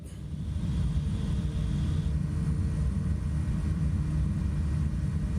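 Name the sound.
airplane engine in flight, Microsoft Flight Simulator 2024 video game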